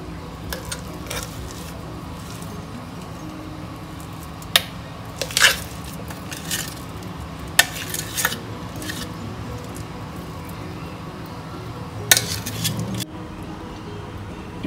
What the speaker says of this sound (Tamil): நெய் உருகினதும் இப்போ அந்த அரைச்ச பாதாம் விழுத இதில் சேர்த்துடலாம்.